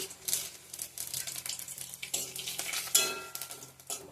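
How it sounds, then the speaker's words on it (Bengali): Bay leaf, whole garam masala and cardamom frying in hot oil in a pan: a soft, steady sizzle with light stirring and scraping, plus occasional clinks of utensil against the pan. "তেজপাতা গোটা গরম মশলা এলাইচ দিয়ে দিলাম"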